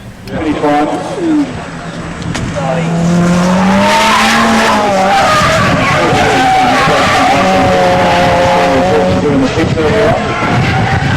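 An RC drift car with a Nissan S13 body slides around a racing track, its whining motor and squealing tires running continuously beneath a commentator's voice.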